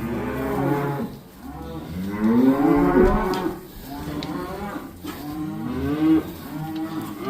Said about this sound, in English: there is a couple of heifers in here, but mostly steers